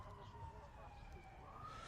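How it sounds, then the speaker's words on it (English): A police siren wails outside the Supreme Court, its rising and falling tone sustained throughout over a thick bed of crowd and street noise, with voices mixed in. "there's a police siren going on right now."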